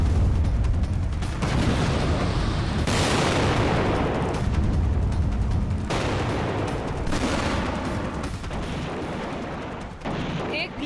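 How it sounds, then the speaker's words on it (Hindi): A massive explosion from a strike in Lebanon booms loudly, followed by sustained heavy rumbling and crackling blasts that stay dense and forceful throughout, with no voices heard. "एक भीषण धमाका और पूरा इलाका धुएं के गुबार में तब्दील हो जाता है।"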